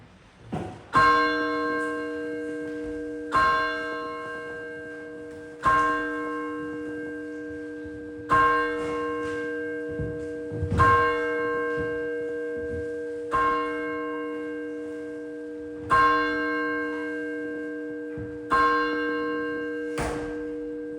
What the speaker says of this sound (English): I want you to notice how long it takes for that last chime to fade into the distance